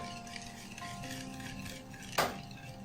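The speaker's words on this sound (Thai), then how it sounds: "คนส่วนผสมให้เข้ากันอีกรอบนะคะ" Batter for a steamed pumpkin cake made with salted butter is stirred in a bowl, a quiet, soft scraping broken by one sharp utensil clink near the end.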